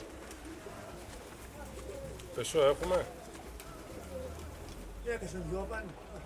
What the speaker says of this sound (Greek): Έχεις μέσα περιστέρια πολυτελείας